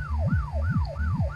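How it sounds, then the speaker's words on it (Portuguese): A police siren in the video game My Summer Car wails in a fast, regular up-and-down sweep, loud and close, repeating three times with no voices. "É, realmente é barulho de sirene."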